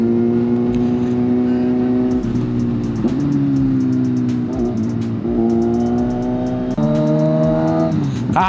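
BMW GS 1250 and Kawasaki motorcycles riding at night, loud steady engine drone close by, rising and falling through several gear changes with brief dips between pulls.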